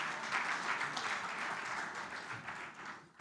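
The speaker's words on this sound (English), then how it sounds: "Let's give him a round of applause." Sustained audience applause at a business leadership convention, many hands clapping in a steady, fairly loud wash that fades out at the end.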